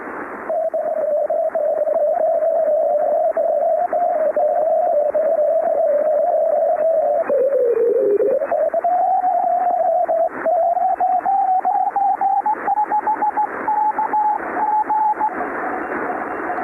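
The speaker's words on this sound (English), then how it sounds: "So what you heard was all sorts of variability in the signal." Ham radio signal recorded at McMurdo Station, Antarctica, a steady continuous tone whose pitch wavers, dips and drifts with auroral variability, heard loud and alone over a crackly, noisy band for the whole stretch.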